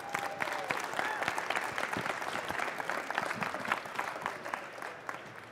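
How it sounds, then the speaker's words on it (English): A crowd in a school gym at a youth wrestling night applauds youth wrestlers with steady, dense clapping that holds for several seconds and only eases slightly at the end. "So let's give a round of applause for our youth wrestlers."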